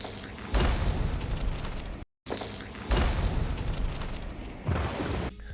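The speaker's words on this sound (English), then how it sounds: "you can hear the steps before the explosion" Several loud, booming explosions in the video game Hunt: Showdown burst one after another with a brief silent gap between, each rumbling before fading into a noisy background.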